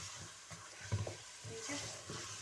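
Chicken fries over high heat in a pan, a faint steady sizzle with a few soft scraping stirs, quiet and close, with no talk.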